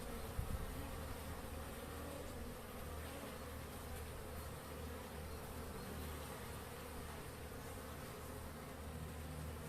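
Dense, steady buzzing of many honeybees close up inside a hive, a continuous droning hum with no voices.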